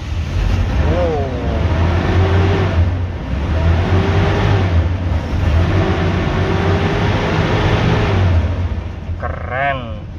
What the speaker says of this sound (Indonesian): Mesinnya anteng bosku, halus.